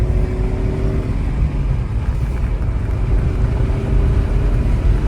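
A Saab 9-5 Aero engine pulling at three-quarter throttle, a loud low steady drone of engine and road noise mixed with wind rushing past the car.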